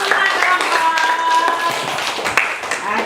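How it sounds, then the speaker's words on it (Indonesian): A classroom of students claps for all the groups, quick scattered hand claps close by, with voices mixed in around them. "Tepuk tangan untuk semua kelompok."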